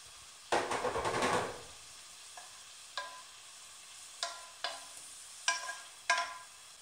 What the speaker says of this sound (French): Faites fondre les poireaux dans la poêle.